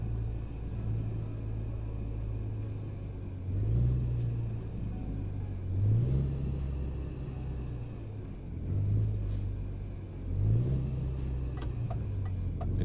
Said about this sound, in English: I like the sound of the Volvo engines in both games